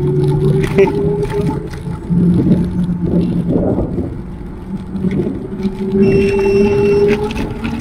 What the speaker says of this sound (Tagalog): tumutunog na yung scooter ng ganun automatic na nabilis na yun